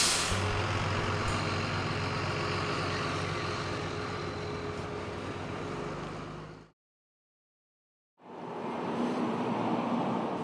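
Buses carrying sailors and shipyard workers at the USS Nimitz dry dock rumble steadily close by with a hiss of air brakes, then cut to near silence for a moment before the heavy engine noise returns.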